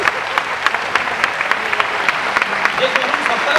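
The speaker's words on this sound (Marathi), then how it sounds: "तरुणांनी उभं राहून टाळ्या वाजवल्या पाहिजे" An audience claps steadily for an organizing committee, a dense, continuous applause with sharp individual claps standing out throughout.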